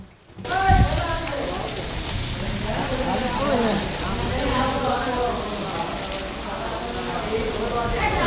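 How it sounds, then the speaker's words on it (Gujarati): Steady, dense rain pours down nearby, a constant hiss of drops with voices talking underneath. "અમે કામે જતા અને વરસાદ આવી ગયો જુઓ તમે"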